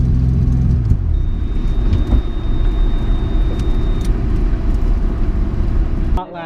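A three-rotor Mazda RX-7 race car roars along on a hot lap, its engine a loud, continuous rumbling drone heard from close by, with a shift in tone near the start and a sudden drop at the end.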